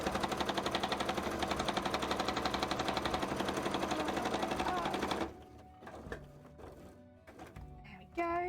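A sewing machine stitches fabric scales for a costume tail with a fast, loud, steady mechanical chatter for about five seconds. Then it stops, leaving quiet handling clunks and rustles.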